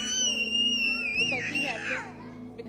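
An 8-month-old baby screams loudly on public transit, a sustained high-pitched wail that bends and breaks up, close and persistent, with a low background rumble.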